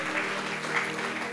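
Church congregation clapping in praise of Jesus, a continuous wash of hands from many people, steady and moderately loud, with faint voices mixed in.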